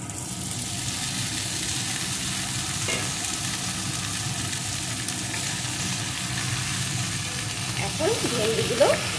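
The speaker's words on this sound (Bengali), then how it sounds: "এখন ভেন্ডিগুলো আলুর সাথে এইভাবে নাড়িয়ে নাড়িয়ে সুন্দর করে ভেজে নেব" Okra pieces and partly boiled potatoes frying in hot oil in a pan, a steady loud sizzle throughout with scraping stirs of a spatula growing louder near the end.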